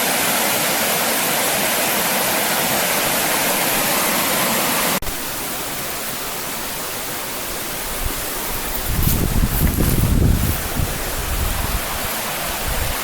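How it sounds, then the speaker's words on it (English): Waterfall swollen after three days of rain, a steady loud broadband roar of rushing water throughout, dipping slightly midway and surging with heavier low churning near the end. "This is the back side of that waterfall."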